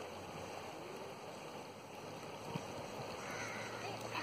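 A river flows with a steady, soft rushing wash that continues without a break, heard from the bank at a modest level under faint background noise.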